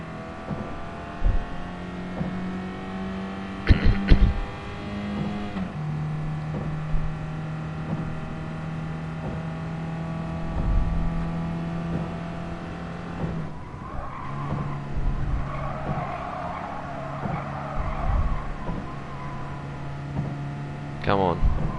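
Race car engine in Gran Turismo Sport holds steady, droning tones through a lap, shifting pitch at gear changes, with brief tire squeals and someone talking over it.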